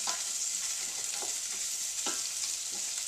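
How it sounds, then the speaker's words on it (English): Cabbage frying in hot oil in a pan, a constant bright sizzle with occasional scraping stirs of the spoon or spatula cutting through, close and steady. "the cabbage goes in. I want to get it covered in oil"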